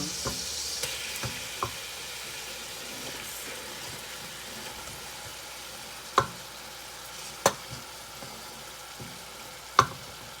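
Meat going into a pan of sautéing Filipino spaghetti sauce, giving a steady low sizzle with a few sharp clacks of a utensil against the pan. No one speaks.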